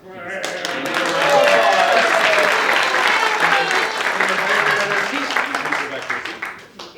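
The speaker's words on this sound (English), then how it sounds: "we're going to tell the audience to give your volunteer a round of applause" An audience at a live variety show applauds a volunteer, a loud, dense round of clapping that swells quickly and holds steady before tapering, with voices mixed in beneath.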